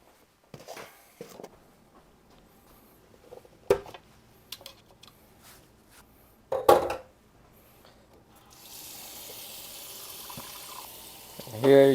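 Warm water runs from a kitchen tap into a sink as pheasant is being cleaned of small feathers, preceded by scattered clunks and handling knocks, then a steady close rushing stream over the final seconds.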